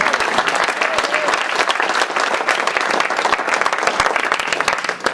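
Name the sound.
church congregation applauding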